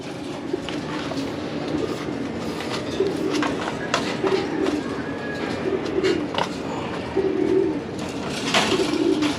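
Pigeons coo steadily in a breeding loft, with repeated soft, throaty calls overlapping for the whole stretch over a constant low background rumble.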